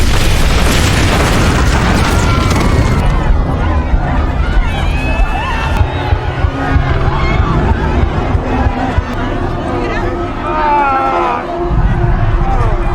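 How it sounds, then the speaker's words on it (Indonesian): A loud, booming bomb explosion in a film scene with deep rumbling, followed by chaotic noise and shouting voices. "Namun waktu sudah berjalan terlalu lama dan bom pun meledak."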